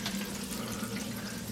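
Water rushes steadily through house plumbing during a pipe flush, a constant broad hiss with a low hum underneath, fairly faint and unbroken, with no voices.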